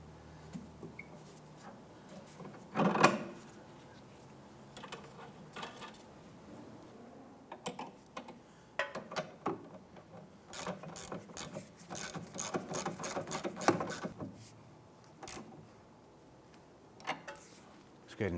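A sway bar end link is installed on a 2001-2005 Honda Civic during rear shock replacement, with quiet ratchet clicks, metallic clanks and tool knocks in irregular bursts, plus faint talk at moments.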